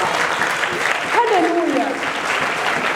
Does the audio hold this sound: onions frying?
no